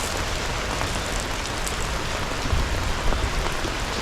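Dense, steady heavy rain with strong wind pouring down, a constant hiss with a few louder bursts near the end.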